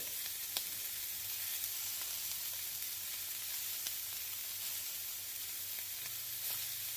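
Filet steaks searing in a cast iron skillet over medium heat give a constant broadband sizzle, fairly soft and even, with occasional faint spits and crackles and no voices.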